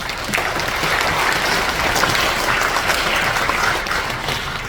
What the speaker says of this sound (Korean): 우리 최하철 우리 장로님께 큰 박수 한 번 해주시기 바랍니다.